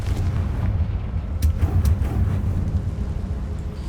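The explosive Confringo spell from Hogwarts Legacy goes off as a deep, rumbling blast with a couple of sharp cracks in the middle, loud and sustained over a low game soundscape.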